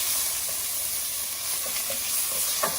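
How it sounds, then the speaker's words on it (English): Minced garlic and ginger sauté in a hot pan, giving a steady close sizzle with a few light stirring taps and a brief louder clink at the end. "1 tablespoon of minced ginger, and then we're going to quickly saute this"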